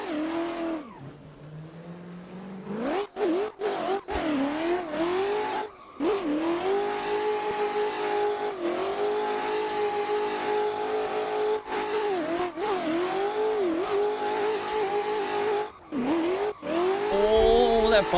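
BMW M4 widebody competition drift car on a track, its engine howling and revving hard with rising and falling pitch, punctuated by brief lifts and shifts and tire squeal as it drifts, loud and close.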